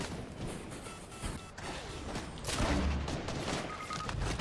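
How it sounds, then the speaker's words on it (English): Bursts of rapid gunfire and booming shots crackle loudly and continuously, with a heavier blast midway, in a chaotic game battle. "Where's all this gunfire coming from?"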